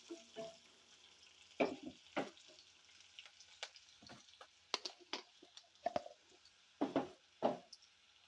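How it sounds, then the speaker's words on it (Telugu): Onion pieces fry in a pan, giving a soft sizzle punctuated by scattered stirring knocks and scrapes, close and fairly quiet. "ఉల్లిపాయ ముక్కలు అయితే వేగుతున్నాయి"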